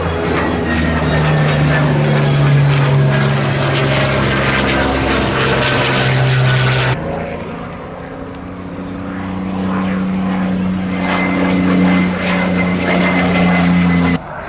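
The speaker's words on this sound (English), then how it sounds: "during the Second World War it was used as a fighter bomber" A Second World War fighter-bomber propeller aircraft drones loudly overhead in a steady engine roar, with the pitch shifting partway through as it passes.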